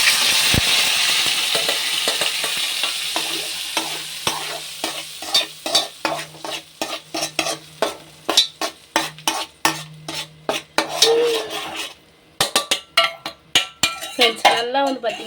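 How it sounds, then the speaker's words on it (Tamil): A ground spice paste fries in oil in a pan, opening with a loud hiss that fades while a spoon scrapes and clinks against the metal in quick repeated strokes, close up, with a brief voice near the end. "இந்த பேஸ்ட்டை எண்ணெயில் வந்து நல்லா வதக்குவாங்க"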